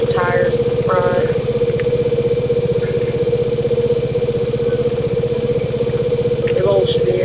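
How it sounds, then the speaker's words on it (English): An air pump inflates the front tires of a tractor in a video game, giving a steady, loud mechanical drone with an even hum that runs unbroken through the whole clip, with brief voice-like sounds near the start. "Pumping air up the tires in the front."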